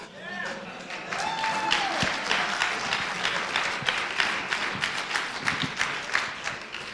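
A debate audience applauds in a hall, a sustained burst of clapping from a large crowd that keeps going throughout, with a voice briefly heard at the start.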